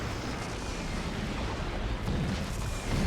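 An orbital strike beam in Dawn of War 2 roars as a dense, sustained rumbling blast with explosive booms layered through it, loud and close throughout.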